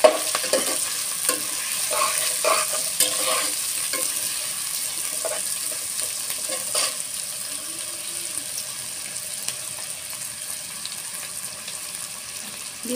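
Potatoes stir-fried with green chilies for a cabbage ghonto sizzle steadily while a spatula scrapes and clinks against the pan in a quick run of strokes early on, then the frying hiss continues more evenly.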